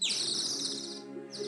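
A nightingale sings a single bright, high, rapid warbling phrase outdoors, clear and close, fading briefly before another note starts.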